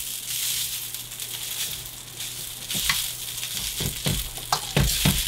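Leftover rice stir-fried in a hot wok gives a steady sizzle punctuated by repeated scraping, clattering stirs that grow busier toward the end, with no one talking.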